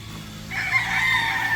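A rooster on a farm crows loudly and close by, one long drawn-out call rising over a low steady hum of background noise.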